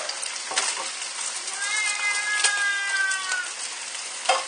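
Bacon fries in a pan with a steady soft sizzle throughout, while a cat meows clearly over it in the middle of the clip.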